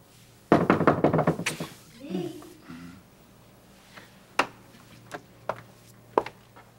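Knocking on a door comes as a quick, close run of raps, then after a brief voice a few scattered single knocks follow at uneven intervals.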